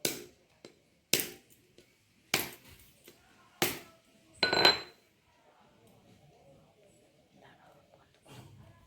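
Raw wood apple (kodbel) struck hard against a surface to crack it open: four or five sharp, knocking cracks spaced about a second apart, then quiet rustling and faint handling sounds.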